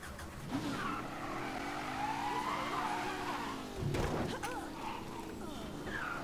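A car driven in Mafia 3, the engine humming steadily with tires squealing and a brief knock midway, while someone talks over it.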